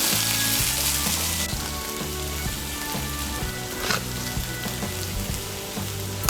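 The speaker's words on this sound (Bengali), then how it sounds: "টমেটো কুচিটা দিয়ে সবজিগুলোকে আরেকটু ভেজে নিয়েছি" Chopped tomato and mixed winter vegetables sizzle and fry steadily in a pan for semolina, a continuous close crackle with faint stirring scrapes and no talk.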